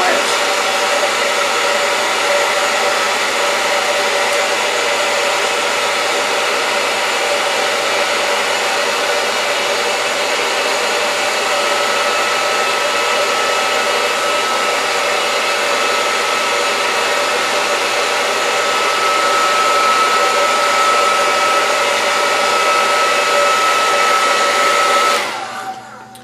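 A hair dryer blows on hair with a loud, steady roar that runs unbroken for about twenty-five seconds, then cuts off abruptly at the end.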